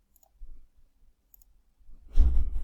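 A few faint, isolated computer mouse clicks sound in a quiet room while a Scratch account is being set up, followed by a brief burst of soft handling noise.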